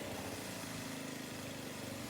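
Small single-cylinder engine of a classic Craftsman snow blower running steadily at close range, a continuous loud rhythmic putter with no pauses and no voices.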